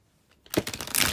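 A deck of tarot cards gets a quick shuffle: after a near-silent half second, a dense papery riffle and rustle bursts in up close and continues to the end, with no talking.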